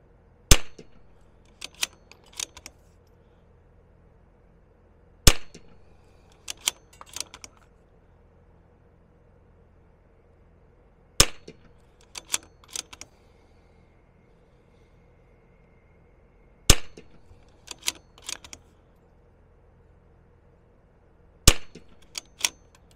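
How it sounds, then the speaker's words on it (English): Zermatt Rim-X rimfire rifle with a DPX bolt mod fired at a range: five sharp, loud single shots spaced several seconds apart, each followed by quick clicks of bolt cycling and handling. "we'll go ahead and shoot another group here right next to it"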